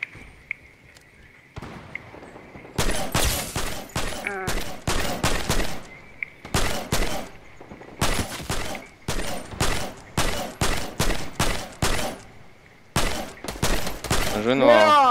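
Gunfire in Fortnite crackles in loud, sharp bursts of rapid shots, coming in repeated clusters with short pauses between, while a faint steady tone hums underneath and voices chatter between volleys.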